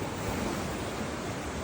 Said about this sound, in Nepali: छाल पनि हानिरहेको छ हाम्रो